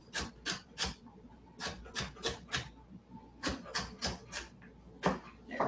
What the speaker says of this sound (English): just slice right along the length of your carrot, about somewhere between 1/4 inch and 1/2 inch thick